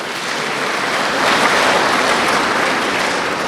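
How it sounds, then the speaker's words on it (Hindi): An audience at a police battalion gathering applauds, a loud continuous roar of many hands that swells slightly midway and keeps going without pause. "तो ये महावीर हैं, इनके लिए ताली एक बारी फिर से बजा दीजिए।"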